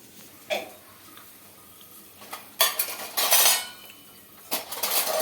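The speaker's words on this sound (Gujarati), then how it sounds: "આમાં બેન છે ને વાસણ ખખડાવે" Steel utensils and pans clatter in a home kitchen during breakfast cooking, a few sharp rattling bursts separated by quiet gaps, the loudest cluster in the middle.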